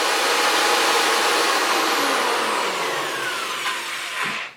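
A corded electric drill powered from a BLUETTI AC2A portable power station spins freely with no workpiece, a loud steady whine that holds for about four seconds, dips slightly, then winds down and cuts off.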